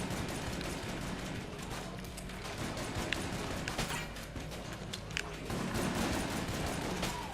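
Rapid gunfire from the video game Enter the Gungeon, dense bursts of shots and crackling weapon effects layered over game music, steady and loud throughout without pause.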